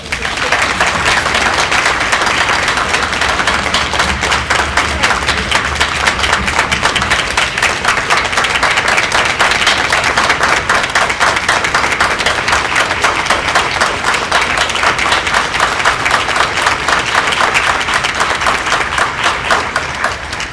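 Sustained applause from an audience at a school district board of education meeting, honoring students, steady and dense for about twenty seconds with faint low rumble in the first part.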